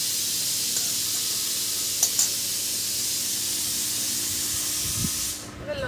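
Dried red chillies frying in mustard oil in a village kitchen, a steady loud hiss and sizzle running throughout with a few faint clicks, easing off at the very end.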